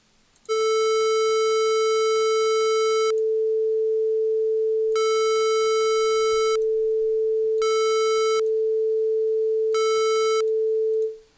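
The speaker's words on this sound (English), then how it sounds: "If you notice the square wave sounds much more sharper, like more aggressive like that." A steady pure sine wave tone sounds continuously while a harsher, buzzier square wave version cuts in and out in four blocks, the bright buzzy sections alternating with the smooth tone.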